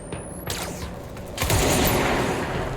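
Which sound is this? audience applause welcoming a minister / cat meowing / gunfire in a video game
gunfire in a video game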